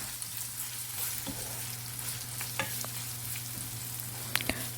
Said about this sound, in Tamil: இஞ்சி பூண்டு பேஸ்ட்டு சேர்த்த பிறகு நல்லா அதோட ராஸ்மெல் போகிற வரைக்கும் நம்ம நல்லா வதக்கி விட்டுக்கலாம்.